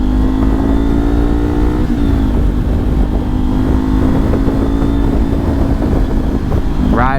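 Kawasaki Ninja 400 (2022) motorcycle riding at steady speed, its engine drone loud and continuous with a brief throttle change near the end, under heavy wind rush.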